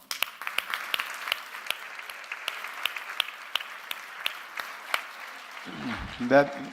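Audience at a conference luncheon giving a round of applause, scattered individual claps forming a loose, fairly quiet patter that thins out as a voice begins speaking near the end.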